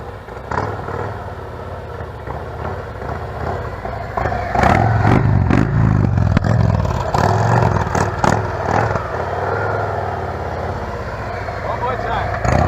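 A motorcycle creeping through a slow, tight U-turn at about 8 mph with light rear-brake pressure, its engine a steady low rumble with a few brief surges, while someone talks nearby.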